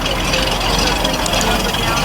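A 1915 Buick Twin Six seven-passenger car at the Geneva Concours d'Elegance running, giving a dense, even engine rumble that stays constant and close throughout.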